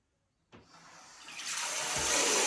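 After a moment of silence, water bursts on and runs steadily from a newly plumbed shower in a barn, the hissing spray building louder and filling out over a couple of seconds.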